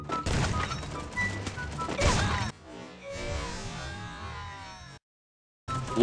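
Rapid gunfire bursts from Free Fire gameplay, dense cracks and thwacks in the first seconds, then quieter scattered shots and game sounds, a brief silence, and another loud burst at the end, with someone talking over it.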